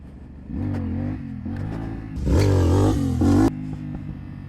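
A CFMOTO 450SS sport motorcycle revs hard during beginner wheelie practice, its engine note rising and falling in several throttle bursts, with a loud, bright surge near the middle before dropping back to a lower drone.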